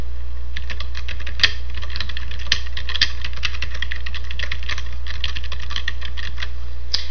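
Keys clatter on a computer keyboard in quick, uneven bursts of close clicks over a low steady hum, with a few sharper, louder keystrokes standing out.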